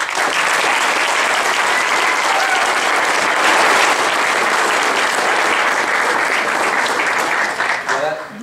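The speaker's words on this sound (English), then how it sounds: "Please help me in applauding Coach Don Rigger" Audience at a hall of fame award ceremony applauding a coach, sustained loud clapping from a crowd that carries on steadily for several seconds before tapering at the end.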